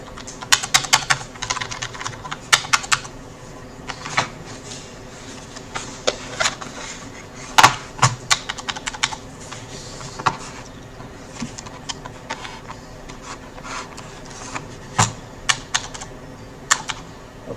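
Typing on a computer keyboard that has some problem, a close series of sharp key clicks in irregular bursts and pauses, fairly loud against a quiet background.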